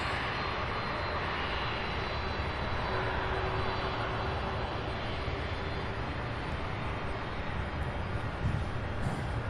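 Steady, distant jet engine rumble from airliners at Louisville's SDF airport runway, a broad continuous roar holding level throughout with a faint tonal whine running under it.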